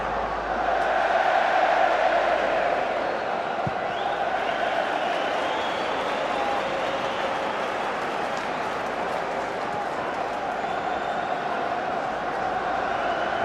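A large league football crowd at Sunderland's home match against Burnley in 2007 roars in a stadium. The noise forms a steady, distant wash throughout and stays fairly low.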